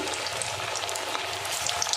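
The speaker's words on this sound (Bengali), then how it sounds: "একবারে আমি চারটে করে ভাজছি" Steady, crackling sizzle of egg and Maggi noodle chops frying four at a time in hot oil, continuous and close with small pops throughout.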